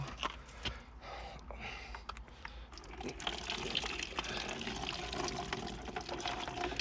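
Water pours in a continuous splashing gush, filling a container with a steady noisy rush that grows slightly louder partway through, with no speech.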